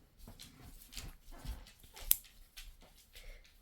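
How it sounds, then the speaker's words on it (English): Dogs in the background of a home crochet session, giving a few scattered soft barks, yips and whimpers in short bursts over several seconds, fairly faint and distant. "Of course, you can hear my dogs in the background."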